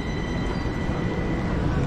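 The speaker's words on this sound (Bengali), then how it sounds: "আমাদের নেক্সট ট্রেন S8 এসে গেছে," An S8 commuter train pulls into a Zurich station, its broad, loud, continuous rumble and rolling wheel noise steady throughout with no talk over it.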